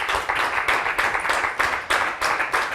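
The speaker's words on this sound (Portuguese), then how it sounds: "Um aplauso para o Dr. Eugênio Leite." Studio audience on a Portuguese morning TV show applauds to welcome ophthalmologist Dr. Eugénio Leite, a steady wash of many hands clapping with rhythmic surges, fairly close and continuous throughout.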